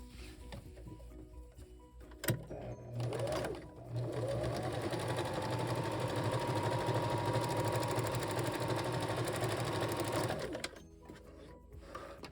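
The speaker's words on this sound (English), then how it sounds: "I'll put a pin here at the tail end and then we'll sew this section." A sewing machine stitches a section of fabric for a pad cover with contoured ends, a steady close whirring hum running for several seconds after a brief start, then stopping.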